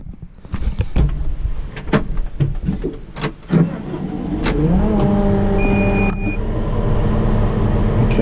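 Kramer KL60.8 wheel loader engine starting and settling into a steady diesel idle that grows louder, after a run of clicks and clunks from inside the cab, heard close up.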